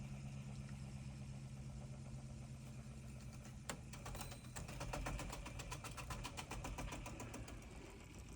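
An electric motor turns a rod through a plastic coupling, spinning a magnetically levitated bar in a frictionless alternator rig. It gives a steady mechanical whir with a rapid rhythmic ticking that grows stronger partway through, alone and without talk.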